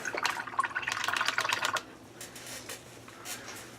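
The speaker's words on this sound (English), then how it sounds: "Wash off my brush here." A paintbrush is swished and tapped in a water cup, with soft quick splashes and clicks clustered at the start, then fainter scattered dabs as it settles; close and quiet, no talking.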